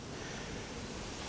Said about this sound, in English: Wow, it's windy today.